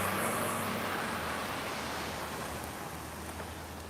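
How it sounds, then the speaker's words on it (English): Heavy rain falls steadily outdoors near a bus shelter by a flower garden, a dense continuous hiss that fades slightly over a few seconds with no talking. "Oh, it's raining a lot right now."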